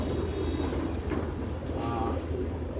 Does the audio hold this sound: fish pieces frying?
no